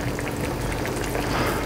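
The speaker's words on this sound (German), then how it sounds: "Und lassen dies jetzt noch mal 2 Minuten kochen." Crocodile stew with cream and cream cheese simmers in a pan, giving a loud, close, steady bubbling and sizzling with no pauses or voices.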